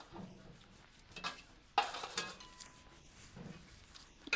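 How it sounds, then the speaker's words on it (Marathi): Coriander seeds dry-roasting on a griddle over a village wood-fired stove, stirred with faint scraping and a light sizzle, punctuated by a few sharper metallic clinks and knocks of the spatula. "आता आपण त्याच तव्यावर धनं टाकलेला आहे भाजायला"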